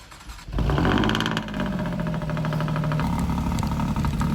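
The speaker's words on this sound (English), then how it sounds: "This car does come with remote control start. So you just click this twice. And it starts engaging the car." An Alfa Romeo Giulia Quadrifoglio, a rebuilt salvage car, fires up by remote start with a sudden loud engine catch and rev, then settles into a steady, close, rumbling idle.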